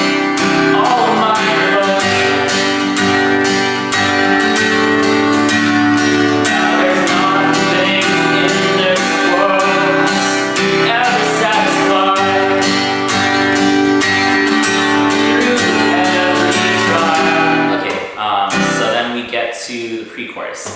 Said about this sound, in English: I'll be using strum pattern 3 for the most part, and it sounds like this.